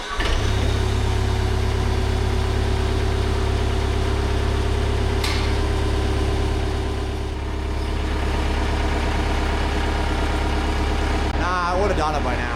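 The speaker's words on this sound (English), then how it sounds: "I'll try and start it right now and see if it'll do it." Diesel engine of a Komatsu PC75 excavator running loud and close with a steady low rumble and idle, briefly dipping and recovering midway, with a faint voice over it near the end.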